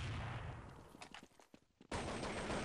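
Counter-Strike 1.6 gunfire comes in loud, rapid automatic bursts. A dense volley gives way to scattered shots and a brief lull, then the firing resumes.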